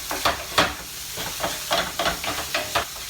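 Mushroom and leek frittata mixture stirred in a hot pan, a quick series of scraping, sizzling strokes in an uneven rhythm over a soft background hiss, close and moderately quiet, with no talking.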